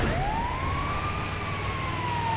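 An ambulance siren in GTA 5 sweeps in a steady, continuous wail, loud and near, with vehicle rumble underneath and no one speaking.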